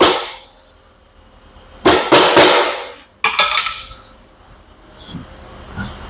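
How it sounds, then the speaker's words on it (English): Metal pick scraping and clicking against the wiper seal of a CASE tilt cylinder during a reseal, two sharp bursts of close scratchy clinks separated by quiet, with faint taps at the end. "So I'll start a pick under the bottom of the wiper."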